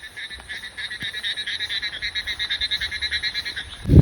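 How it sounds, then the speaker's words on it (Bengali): A dense chorus of frogs croaks at night in a fast, steady pulsing rhythm, loud and continuous, ending with a sudden rumbling thump. "সবাই চুপ করো ব্যাঙের ডাক শোনাই তোমাদেরকে"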